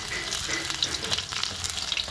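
Fish frying in a pan gives a steady, close crackling sizzle with scattered sharp pops and spits, with no talk over it.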